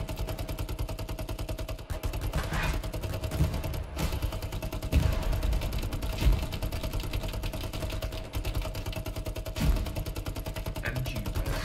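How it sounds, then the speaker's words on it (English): Sustained machine gun fire in the shooter Hell Let Loose, a fast, steady rattle of rounds running through the whole stretch, with a few heavier reports and thuds standing out now and then, moderately distant. "Suppress them with machine guns."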